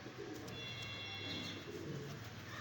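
A pigeon coos in soft, repeated low calls, close by and fairly faint, with light background noise and no talking.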